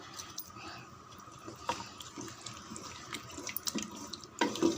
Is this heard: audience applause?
no